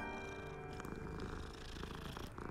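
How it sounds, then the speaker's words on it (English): A cat purring in a video game, a steady soft rumbling purr heard close and alone, faint throughout. "Got a purr?"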